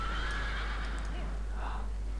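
A horse whinnies in World of Warcraft, a rising neigh standing out against steady game ambience, with a faint second call near the end.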